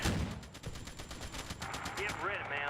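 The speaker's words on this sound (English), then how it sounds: "This 20mm cannons are firing against this." Rapid bursts of 20mm autocannon fire in the WWII strategy game Theatre of War 2, set at the Battle of Cheux, pounding steadily in a dense rhythmic stream with a voice briefly talking over the end.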